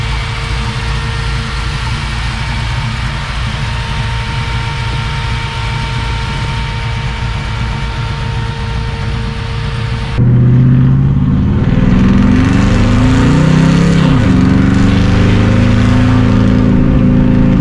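Restored old car engine idling steadily, then the throttle is pressed and the note jumps into a louder, rougher rev with rising and falling pitch, heard close and with no talk.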